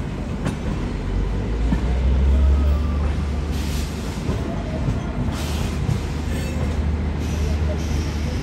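The Yesvanthapur–Delhi Sarai Rohilla Duronto superfast express pulls in with a heavy, sustained rumble and clickety-clack of wheels, close and loud, with faint squeals and brief talk layered over it.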